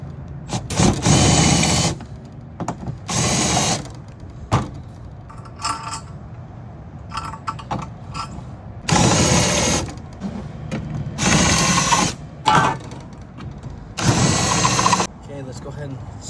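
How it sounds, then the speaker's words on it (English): Power drill countersinking a hole in an aluminum storefront door frame, sounding as several short bursts of whirring and grinding separated by pauses, close and fairly loud. "Let's go ahead and countersink this real quick."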